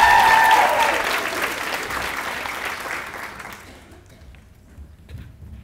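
Audience applause welcoming Claire Lee to give her senior speech, dense clapping at first that gradually thins and fades over several seconds.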